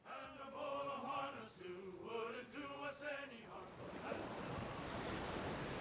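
Sea waves in Pillars of Eternity II: Deadfire, a soft rushing wash of surf rising after a stretch of sung melody, faint and steady.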